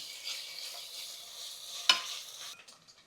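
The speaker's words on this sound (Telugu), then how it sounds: "ఇది కూడా ఒక వన్ మినిట్ ఫ్రై చేసుకున్నాం" Ginger garlic paste frying in a pan gives a steady soft sizzle with faint stirring scrapes, one sharp utensil knock near the end, then it quiets.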